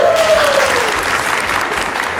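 An audience claps together at the close of an MC-hosted event, a dense, steady burst of applause filling the room, with a brief high whistle-like tone at the start and faint voices underneath.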